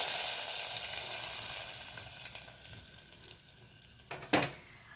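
Garlic, curry leaves and spices sizzling in hot oil for a tempering on masala dal, a steady bright crackle fading slightly, with a short sharp burst of sizzle near the end.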